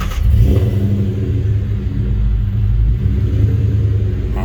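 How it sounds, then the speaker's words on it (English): Car with a swapped-in Ford Coyote engine running, a loud close low rumble with a steady idle and a slight rise in revs midway, no speech. "Start this thing up."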